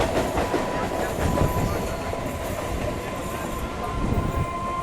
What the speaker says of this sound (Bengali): আমাদের ট্রেনটার পাশাপাশি আরেকটা ট্রেনও হাওড়ায় ঢুকছে